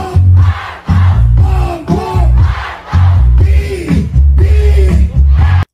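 Crowd cheering and roaring at a 2022 campaign rally performance by a rapper, loud and close, surging in repeated waves over a thumping low beat.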